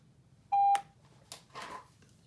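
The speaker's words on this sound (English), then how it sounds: "So you hear that off beep?" A shot timer gives one sharp electronic beep during holster draw practice, followed by a click and a softer rustling noise, in an otherwise quiet room.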